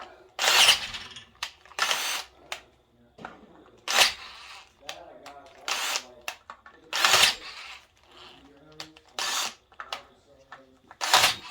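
Repeated short bursts of a handheld power drill whirring in and out while drilling a thermostat housing for a Honda K24-A2 engine swap, each a second or so long, with pauses and quiet talking between them.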